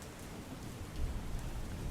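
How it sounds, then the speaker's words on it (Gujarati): Heavy monsoon rain pours down in Pune and Mumbai during flooding, a dense, continuous hiss of rain on surfaces with a low rumbling undertone that swells slightly midway, and no voices. "મુંબઈમાં અનરાધાર વરસાદથી પૂરની સ્થિતિનું નિર્માણ થયું છે"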